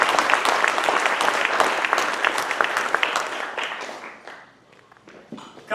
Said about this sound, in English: We owe this man a huge round of applause.